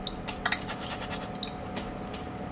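Fried finger potatoes lifted out onto a plate, with quick metallic scrapes, clinks and light scratches of utensil against pan and plate, close and busy over a faint sizzle.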